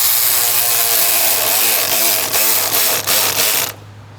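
A power tool tightens the charge port on a 2013 VW Touareg during front main seal work, a loud steady whir broken by a few short ratcheting bursts before cutting off abruptly.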